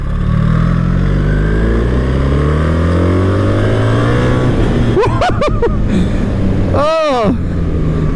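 A BMW R 1300 GS motorcycle accelerates hard enough to lift its front wheel. The engine note climbs in pitch through loud, close wind roar, and a voice is heard briefly.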